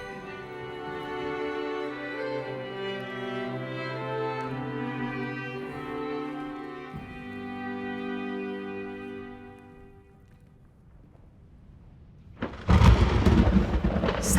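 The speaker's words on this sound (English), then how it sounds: "Suddenly, a dreadful storm was approaching." Thunderstorm sound effect in a Little Mermaid fairy-tale audio drama: gentle music plays for about ten seconds, then after a short lull a loud, rumbling thunder crash breaks in with rain noise.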